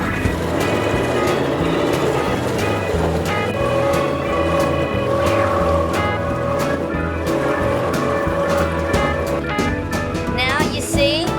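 A small tinnie-style boat motors out of a canal lock with a steady, loud engine drone that runs throughout. Light knocks and tonal hums rise over it, and a clatter near the end.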